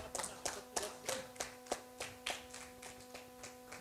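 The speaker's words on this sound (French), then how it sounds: "le plus jeune du groupe, Pépé Antoine Zidio, que je vous prie d'applaudir." Clapping at a Rotary Club handover ceremony in Parakou, a sparse, slightly uneven rhythm of about a dozen distinct hand claps, fairly faint, over a steady low electrical hum.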